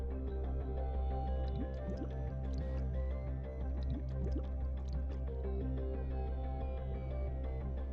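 Underwater swimming in The Planet Crafter video game, a steady submerged ambience of soft liquid drips, squishy bubbling and low droning hum that runs continuously, without talk.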